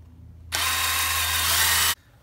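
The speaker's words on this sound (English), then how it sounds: "we can go ahead and start drilling carefully" A loud, high-pitched power drill whines steadily for about a second and a half, boring into a broken hardened steel bolt, then cuts off abruptly.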